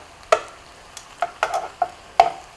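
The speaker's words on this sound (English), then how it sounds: "I'm gonna make little kind of holes in the bottom of the pan." A utensil pushes through sizzling vegetables in a shakshuka pan, several sharp scraping taps spaced irregularly over a faint background sizzle, close and clear.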